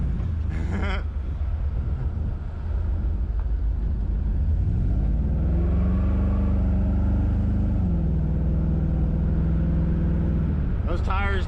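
A truck engine revving while driving, a loud low rumble that rises and holds in pitch through the middle, with wind noise throughout and a voice talking over it.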